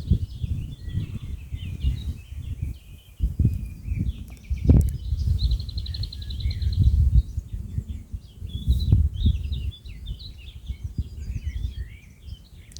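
Birds chirp and twitter faintly and intermittently in a quiet village meadow in Germany in spring, thin calls sitting over a steady low rumble of wind or handling noise.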